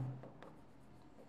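A pen writes on paper during an accounting lesson, a soft, close scratching of a few short strokes with no talk over it.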